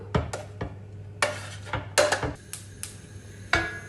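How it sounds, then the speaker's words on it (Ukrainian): Clattering kitchen sounds as carrots are tipped into a frying pan with oil, with several sharp knocks and scrapes of metal and wood at an uneven pace, no speech. "Я наливаю олійки висипаємо моркву на пательню"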